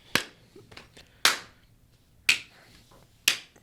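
Four sharp, loud hand claps spaced about a second apart, each ringing briefly before near silence.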